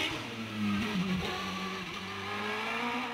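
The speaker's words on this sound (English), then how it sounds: "with the new paddle gear shift fitted to the Gould, he's really flying." A Gould hillclimb race car, fitted with a paddle gear shift, roars past at speed on a British hillclimb course, its engine note loud and steady with a brief pitch shift mid-pass and no talking.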